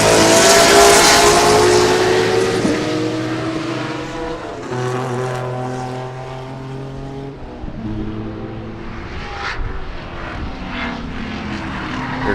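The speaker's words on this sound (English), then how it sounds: "Here come your spec Corvettes." Spec Corvette race cars pass at Sebring in a loud, close pack, their engine notes overlapping and shifting pitch as they sweep by, with a steady roar throughout.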